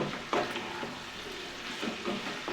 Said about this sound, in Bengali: একদম গ্যাসের ফ্লেমটা বড় করে দিয়ে ভালোভাবে আমি কিন্তু নাড়ব